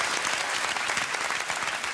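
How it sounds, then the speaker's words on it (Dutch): Studio audience applause on a Dutch music quiz television show, dense, even clapping close and loud for the full two seconds with no talking over it. "Applaus voor Josje."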